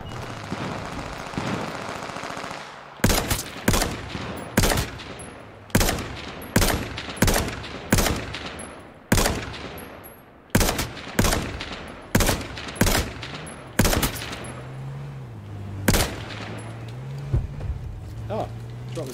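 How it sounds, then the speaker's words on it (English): Gunfire in the video game H1Z1: a run of loud, evenly spaced single rifle shots, each with a short echoing tail, over a faint low engine-like drone. "Got a lot of shots off at random people there, but no kills"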